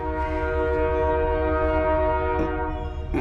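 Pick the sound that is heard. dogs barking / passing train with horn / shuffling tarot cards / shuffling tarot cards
passing train with horn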